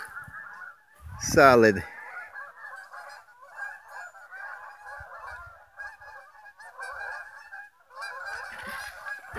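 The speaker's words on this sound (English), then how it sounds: "And the geese are pissed." Geese honking on the frozen Albemarle Sound, a continuous chattering flock calling in overlapping nasal honks at middle distance, with a brief loud close voice near the start and a short spoken word.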